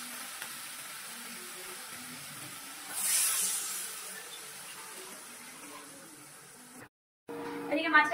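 Water poured into a pan of potatoes and spices makes a short hissing sizzle that swells and then fades over a low kitchen background.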